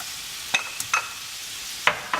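Sun-dried tomatoes fry in a hot pan with a soft continuous sizzle, broken by a few sharp scraping clicks of stirring, close and moderately quiet with no voices.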